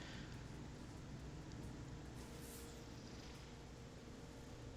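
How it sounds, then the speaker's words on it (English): Steady, even rain hiss in No Man's Sky fills the background, a constant wash with no voices or other distinct sounds. "Yep, it's raining. I can hear it."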